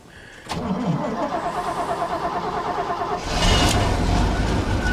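A small gasoline engine with an electric choke cranks, then catches and runs, growing louder and rougher toward the end.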